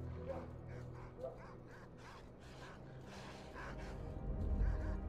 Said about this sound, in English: It sounds like a pseudo dog and a bunch of wild dogs.